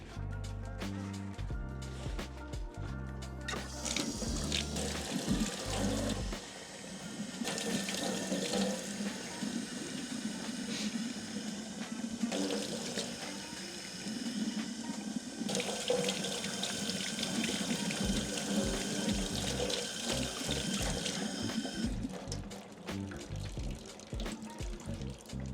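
Tap water runs steadily into a sink while vegetables are washed at a glamping campsite near Mt Fuji, close and fairly loud, with a few brief breaks and changes in the flow.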